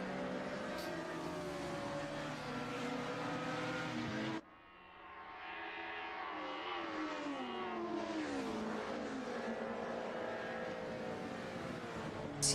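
Classic 1990s BMW touring cars racing on the Nürburgring Nordschleife in a sim racing game, engines droning and shifting pitch as they accelerate, a sharp cut midway then a pack roaring past, fairly distant and steady.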